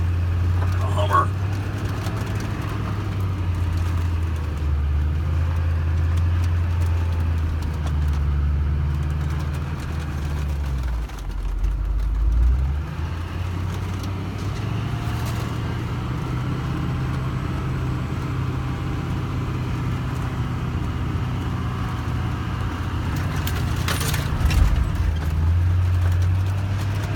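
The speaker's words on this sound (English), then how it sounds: "I'm in a Hummer." A Hummer H1 Alpha rumbles along a slick proving ground track, its low engine drone steady with brief swells, while people talk over it throughout.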